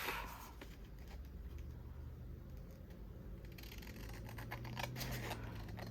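Scissors cutting paper for a handmade grungy journal, close and quiet snipping and rustling strokes over a few seconds, with no talk.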